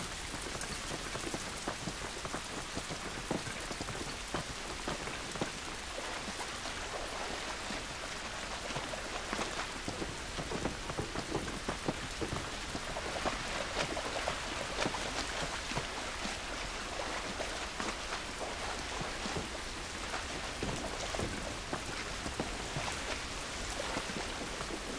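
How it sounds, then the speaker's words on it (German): Steady, close rain pouring on surfaces in The Last of Us on PS3, a dense continuous hiss with no clear thunder rolls, and no voices over it. "Dieser Regen ist nicht gut für uns."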